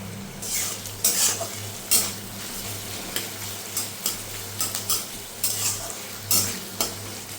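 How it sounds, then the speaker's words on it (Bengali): Onions fry in a pan with salt added, giving a steady sizzle under repeated stirring and scraping strokes roughly every half second to second, close up with no talk. "ভাজতে হবে, মানে যতক্ষণ না মজবে। পেঁয়াজটা তাড়াতাড়ি মজে যাওয়ার জন্য দিয়ে দিলাম কিছুটা লবণ।"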